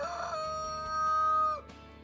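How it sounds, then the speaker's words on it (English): A rooster gives a single clear crow that rises and holds for about a second and a half before breaking off, fairly near and alone against a quiet background. "Roosters will crow early in the morning"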